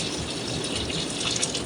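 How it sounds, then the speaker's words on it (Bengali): Hot water is poured from a vessel into a cooking pot of vegetable and chicken khichuri, making a close, steady gushing splash that lasts throughout at an even loudness. "এবার আমি পানি দিয়ে দেবো। পানিটা আমি গরম করে রেখেছিলাম"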